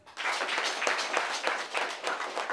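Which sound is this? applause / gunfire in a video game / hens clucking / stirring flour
applause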